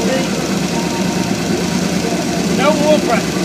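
A Big Bubba engine runs with no oil pressure at all, idling with a steady, loud mid-range rumble close by, while a person talks over it near the end.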